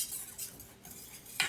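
A spoon scrapes and swirls through gravy in a pot on the stove, soft rhythmic stirring strokes close by with a brighter clink near the end.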